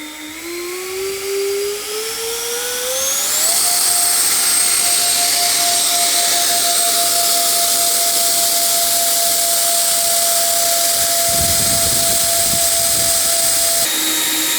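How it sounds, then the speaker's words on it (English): A Dynam Gloster Meteor model jet's electric ducted-fan engine spools up from a low whine to a loud, steady high-pitched scream and holds there close by, with no talking. "then we'll be ready for engine run-ups"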